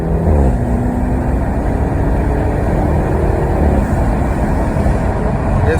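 BMW 340 running without its secondary catalytic converter, a steady rumbling exhaust drone under acceleration that holds fairly even throughout, with road and wind noise mixed in.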